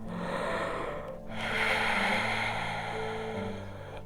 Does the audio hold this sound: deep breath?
yes